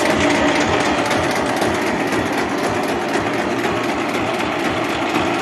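A Lider 220 machine's engine roars loud and steady under throttle while its hydraulic pump works, a dense continuous mechanical drone with no talk.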